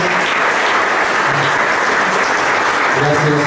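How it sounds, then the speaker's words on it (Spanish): A church audience gives sustained, dense applause for the priests, loud and close, continuing without a break, with a voice faintly audible underneath near the end. "Un aplauso a los sacerdotes."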